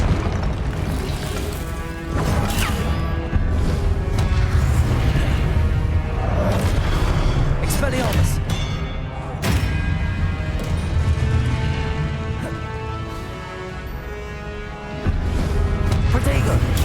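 A Hogwarts Legacy duel with Expelliarmus spell combat keeps up a dense, loud wash of magical blasts, booms and bursts with almost no pause, and speech is mixed into the action throughout.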